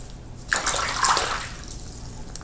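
Disassembled parts from a 1933 Tula Mosin Nagant rifle, freshly stripped of cosmoline, are dropped and rinsed in cool water, giving a close burst of splashing and pouring that tapers into a softer trickle.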